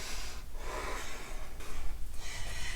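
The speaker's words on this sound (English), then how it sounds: "Breathing as we cool down." Heavy breathing during the cool-down of a 15-minute leg workout, with a few loud, breathy inhales and exhales in an uneven rhythm, close and alone with no talk.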